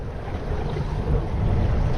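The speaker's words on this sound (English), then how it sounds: "I'm leaving the motor running just in case I can't start the bugger." An outboard boat motor idles steadily on a small fishing boat near Cape Gloucester, blended with gusting wind across the microphone and choppy water, a continuous low rumble with no speech.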